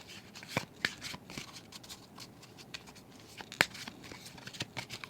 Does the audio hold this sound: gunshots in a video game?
no